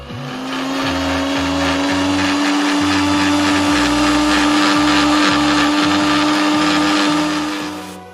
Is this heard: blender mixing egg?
yes